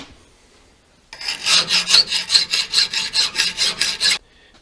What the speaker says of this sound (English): I'm going to sharpen it up and clean it up a little bit more